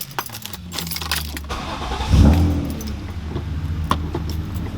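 A BMW E36's engine runs steadily at idle as gears are shifted, with metallic clicks and rattles from the shifter and a brief low swell partway through, all close by with no talking.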